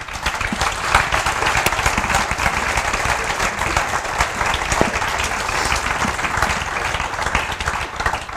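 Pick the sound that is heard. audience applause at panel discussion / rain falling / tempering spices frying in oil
audience applause at panel discussion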